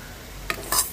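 Mustard seeds fried and stirred in a pan while cooking chicken pachadi, a couple of brief clinking, crackling bursts from spoon against pan over a quiet background.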